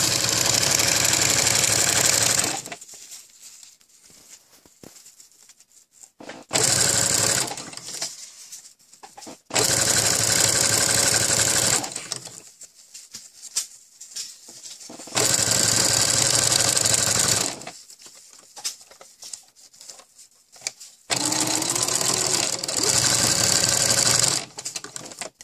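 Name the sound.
sewing machine stitching ruffle onto cloth diaper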